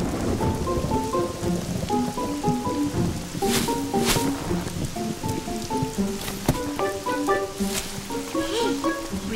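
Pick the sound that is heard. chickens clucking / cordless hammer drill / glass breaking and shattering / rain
rain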